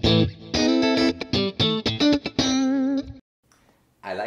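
Clean electric guitar through an Axe-FX II amp modeler's clean preset, playing a quick run of plucked notes and chords, bright and sustained, ending with a held chord that rings out before a brief pause.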